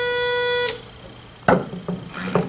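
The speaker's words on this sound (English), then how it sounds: "it completes an electrical circuit and sends a beep up to the unit here." A water level E-tape used for measuring static water level in a well gives a steady electronic beep when its leads touch water, a harmonic tone lasting about 0.7 seconds, followed by quieter rustling and handling sounds.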